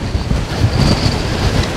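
A strong 50mph wind roars steadily across an open moor on the way up to Brat Tor, a loud, unbroken rush buffeting close at hand with no voice heard.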